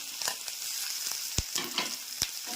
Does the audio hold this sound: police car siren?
no